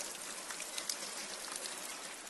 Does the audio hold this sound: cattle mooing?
no